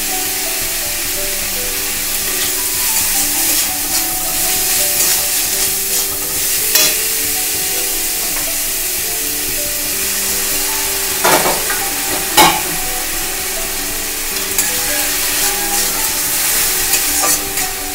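Spiced masala with ground ginger paste sizzles steadily in a pan, loud and close, while a spoon or spatula scrapes and stirs in occasional sharp strokes.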